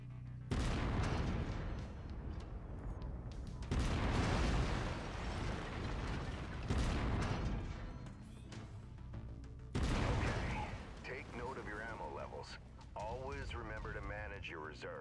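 Heavy autocannon fire from a mech in Mechwarrior 5: Mercenaries, loud booming bursts at irregular intervals over rumbling game sound, with a voice talking throughout.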